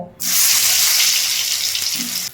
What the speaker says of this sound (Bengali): এবার আমি এই বেগুনটা আগে ভেজে নেব।